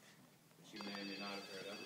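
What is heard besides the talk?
mobile phone ringing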